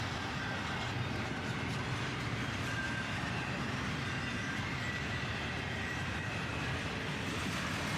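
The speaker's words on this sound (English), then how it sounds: "A pair of Jevos lead a southbound intermodal. Both ES40 DCs, I think." A CSX southbound intermodal train led by two GE ES40DC locomotives rolls past with a continuous broadband rumble of wagons and faint wheel squeal, steady and unbroken for the whole stretch.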